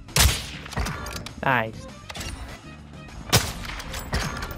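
Sniper rifle fire in Warzone 2, the Intervention and MSR: booming shots and impacts over busy game audio, with a voice talking between them.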